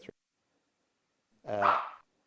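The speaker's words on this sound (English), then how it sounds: "Sorry about the dog" A household dog gives a single short bark up close, heard alone after a stretch of near silence.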